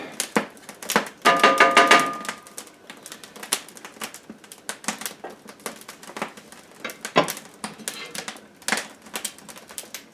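Sharp irregular crackles and pops of burning wood sound close by inside a wood stove, with a denser burst early on and scattered snaps continuing throughout.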